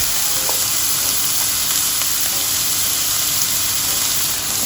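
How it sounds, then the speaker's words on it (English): Chopped red onion frying in a pan for Kenyan githeri gives a steady, close sizzle with a bright hiss that holds level throughout, with no talk over it. "Next I'm going to add chopped red onion."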